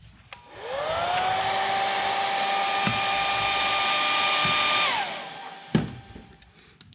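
A hair dryer is switched on to dry a watercolor landscape painting, whirring steadily and close for about four seconds before spinning down, followed by a couple of faint knocks.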